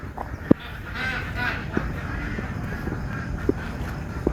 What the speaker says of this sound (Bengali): আমি মালয়েশিয়ার একটা হাঁসের খামারে আসলাম